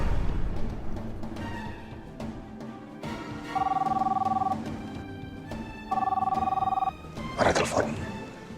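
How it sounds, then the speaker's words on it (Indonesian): A telephone rings in a drama scene, sounding twice as steady electronic trills of about a second each, heard over room tone and background music, with a short rustle near the end. "Ada telepon."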